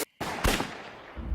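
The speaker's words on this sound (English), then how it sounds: "The gunshots woke her up." Gunshot sound effect, a loud sharp blast followed quickly by a second report with a long rumbling decay, no voices.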